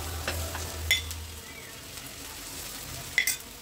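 Tilli frying in mustard oil in a pan over medium heat, a soft, even sizzle up close with a couple of brief metallic clinks and scrapes as pieces are added, quiet and without talk.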